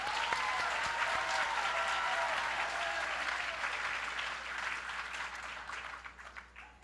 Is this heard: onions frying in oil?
no